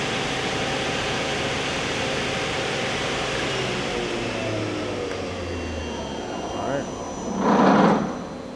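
A Nakamura Tome Slant-3BSL two-axis CNC turning center spindle runs at 3000 RPM in the high range, a steady loud whine and broadband machine roar with a brief swelling burst of noise near the end.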